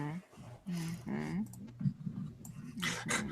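A dog makes odd whining, groaning noises in short bursts close by, with people talking over it during a podcast.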